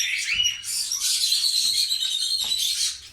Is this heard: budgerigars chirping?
yes